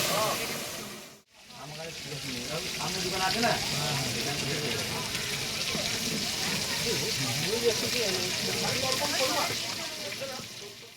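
Fish sizzles and fries in hot oil, a steady crackle running throughout at moderate level while people talk nearby.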